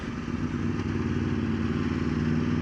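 An Aprilia RSV4 Factory motorcycle engine running steadily, a dense, close mechanical drone with a slight clatter underneath, continuous and even without voices.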